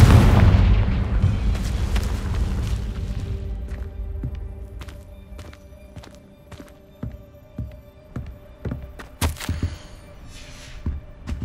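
Confringo spell explosions in Hogwarts Legacy: a loud booming blast that rumbles and fades, followed by a scattered series of sharp, brief impacts and crackles at irregular intervals.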